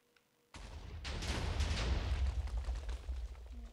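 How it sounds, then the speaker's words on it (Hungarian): Blocky TNT explosion from the Minecraft video game, set off among farm animals: a sudden loud broadband blast followed by several seconds of dense rumbling, crackling detonations as more charges go off, with no talking. "Ide berobbantok az állatok közé egy TNT-t."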